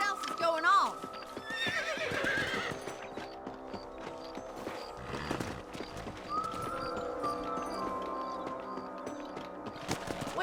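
Horses whinny and hooves clip-clop in the Western game Red Dead Redemption, a sharp neigh near the start followed by steady hoofbeats and game ambience, with characters talking over it.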